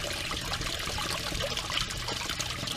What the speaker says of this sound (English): that float switch will float up, and once it's up, it turns it on and shoots it out.